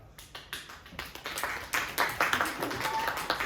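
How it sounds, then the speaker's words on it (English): Party guests clap at a Pride weekend gathering, a small scattered group of claps building from a few sharp taps into a moderate ragged patter in a close indoor room. "Thank you for clapping."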